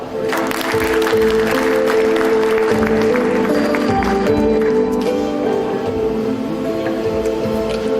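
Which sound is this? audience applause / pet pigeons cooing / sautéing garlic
audience applause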